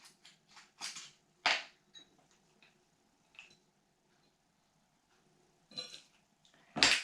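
Olives stirred with wine vinegar in a bowl, with sparse, quiet clacks and taps of a spoon at uneven intervals and long gaps of near silence between them.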